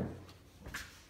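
A German Shepherd pushes a door shut, making one soft thud and latch click partway through a short, quiet moment, with no voices over it.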